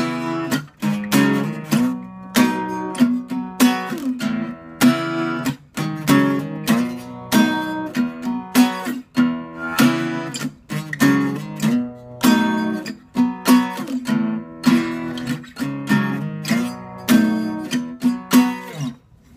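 Acoustic guitar plays the verse of a song at full tempo, a steady run of bright picked and strummed chords with a regular rhythmic pulse, close and clear with no talking.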